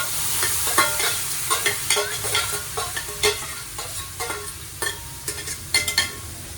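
Pork for karne frita being fried and stirred in a pan, a bright continuous sizzle broken by frequent scraping, clicking strokes of the utensil in an uneven rhythm, close and loud.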